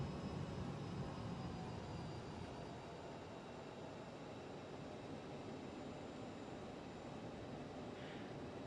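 Jet engines spool up and roar steadily during takeoff on runway 27 in a flight simulator, a continuous broadband rumble that holds loud and even throughout with no talking.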